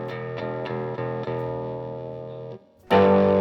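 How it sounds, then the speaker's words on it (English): Electric guitar run through a ring modulator pedal with distortion switched off, giving sustained metallic, inharmonic tones with a few re-struck notes, a short near-silent gap, then a loud bright new chord, all close and alone. "I'll turn the distortion all the way off, and we'll turn up the ring mod"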